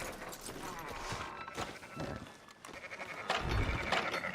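Sheep bleat repeatedly in Red Dead Redemption 2, close and overlapping, with a louder bleat near the end, amid shuffling hoofsteps and background noise, as in a game soundtrack.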